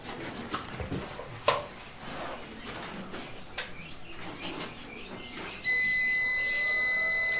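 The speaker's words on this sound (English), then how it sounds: "It sounds an alarm." A steady electronic alarm tone from an overloaded solar power system starts partway through and keeps sounding over a noisy indoor background with scattered knocks.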